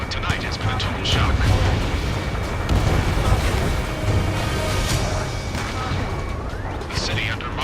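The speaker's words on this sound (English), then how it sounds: "Gunfire and the roar of jets echoing through the streets." Gunfire and jet roar fill a city under martial law in the video game Ace Combat 7. A dense, continuous rumble is broken by sharp bursts and booms, with voices mixed into the din.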